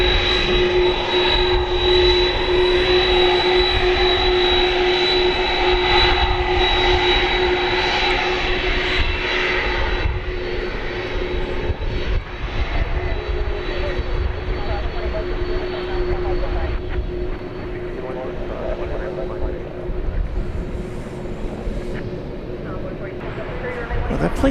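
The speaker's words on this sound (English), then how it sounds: "Those are directional engines on that 767." A Boeing 767's jet engines roar loud and steady at DFW Airport at night, a high whine riding over the deep rumble, fading somewhat as the plane turns away; a voice talks over it.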